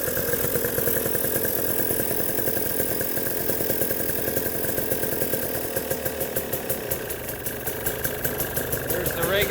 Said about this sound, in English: There's the regular idle.